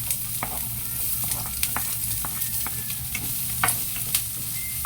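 Onions sautéing in a pan, with a steady soft sizzle and scattered scrapes and clicks of stirring throughout, close and fairly quiet with no talk.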